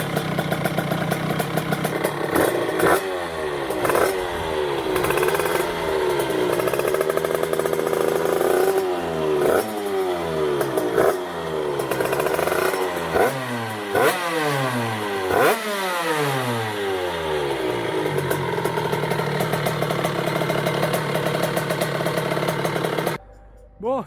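A Derbi moped with a new TXT exhaust is started and revved, its small two-stroke engine buzzing loudly and close by, rising and falling in repeated throttle blips over a steady idle before cutting off at the end.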